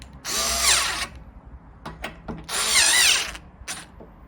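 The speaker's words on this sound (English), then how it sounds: "tighten the cover plate screws" A power drill tightening cover plate screws on an Atlantic 530G hinge: two loud whirring bursts, each rising and falling in pitch, separated by short clicks and taps, close up with no talking.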